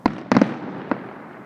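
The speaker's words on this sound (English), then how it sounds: "You hear them shooting them off?" Fireworks launching and popping at a state fair: a sharp single bang, then a quick burst of three close pops, and one more isolated pop later, all fairly loud against a low crowd murmur.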